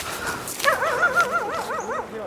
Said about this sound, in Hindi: यहाँ इधर की साइड से कुत्ते भी भौंक रहे हैं